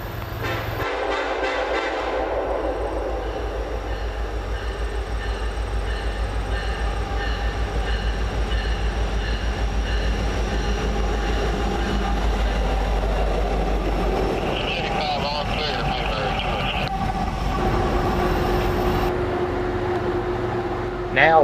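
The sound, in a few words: Norfolk Southern locomotives and loaded coal train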